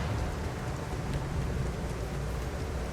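Steady rain in the video game The Alters, a dense, even hiss of falling water with a low rumbling undertone, constant and fairly close throughout with no voices.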